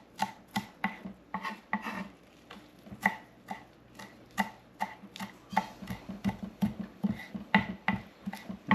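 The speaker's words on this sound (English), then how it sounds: "I'm going to take a bit of cilantro over here. Chop it up real good." A knife chopping cilantro on a board, rapid rhythmic knocks repeating steadily and close by, with no talking.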